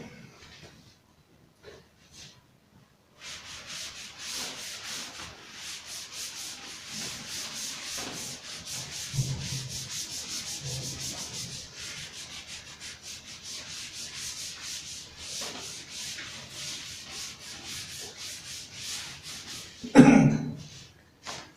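Writing being rubbed off a classroom board during a maths lesson, a steady close scrubbing sound running for many seconds, ending in a cough or throat clearing.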